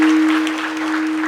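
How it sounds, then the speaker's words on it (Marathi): An audience applauding at a temple anniversary event during a harinam saptah: loud, dense, continuous clapping over a steady electrical hum. "टाळ्या झाल्या पाहिजेत"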